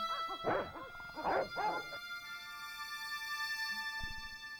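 Cartoonish dogs bark in the video game Broken Sword: Shadow of the Templars, three loud close barks in quick succession over a steady musical drone, followed by quieter ambience and a faint thud.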